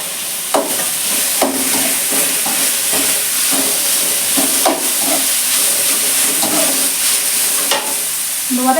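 Capsicum sautéing in a pan with ginger garlic paste: steady close sizzle and frying hiss, broken by repeated scrapes and stirs of a spatula against the pan.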